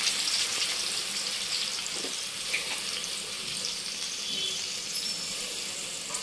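Ground spice paste goes into a pan of frying goat head and trotter meat, producing a wet, bubbling sizzle with splashy, watery crackles that stays steady and close throughout, no voices.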